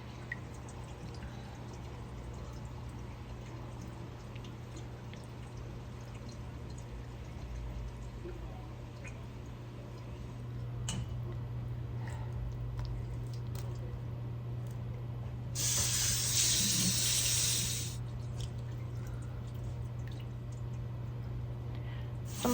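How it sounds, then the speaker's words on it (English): Valerian roots rinsed for a few seconds under a high-pressure water spray, a steady broad hiss that swells briefly louder over a constant low hum. "I'm putting it under the water, just a high pressure wash for a few seconds"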